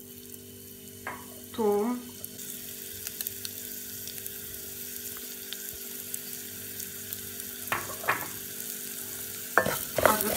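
Onion and garlic fry in a pan for spaghetti in tomato sauce, a low steady sizzle broken by a few scrapes and clinks of stirring, with short bits of speech.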